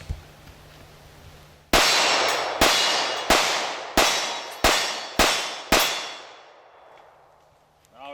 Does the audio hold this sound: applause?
no